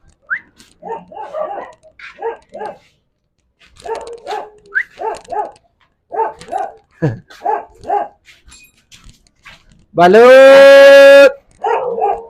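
A dog gives a loud, sustained bark near the end, after a stretch of a man repeatedly calling out in a street vendor's sing-song cry.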